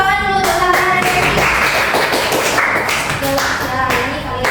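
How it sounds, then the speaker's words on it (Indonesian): Classroom clapping by a group of students, loud and close, with a few sharp taps and bursts of rhythmic clapping mixed with brief voices. "Kasih tepuk tangan dulu untuk Zahra dan Resi."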